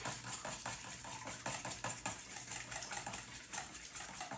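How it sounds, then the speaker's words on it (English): A whisk beats heavy cream in a bowl for quiche, a quick steady run of faint clicking and scraping against the sides, continuing without pause. "we're going to use our whisk and just whisk that right up"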